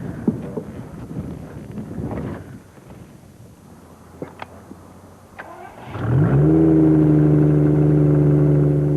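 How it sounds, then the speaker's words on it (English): A trike with an automatic gearbox sits through a stretch of wind buffeting until its engine fires up and settles into a loud, steady, close drone as it gets ready to move off. "Ignition, and off we go."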